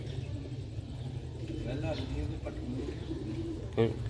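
Pigeons cooing softly in a rooftop loft, low throaty coos under steady background noise, with one brief louder call near the end.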